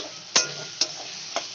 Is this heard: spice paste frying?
yes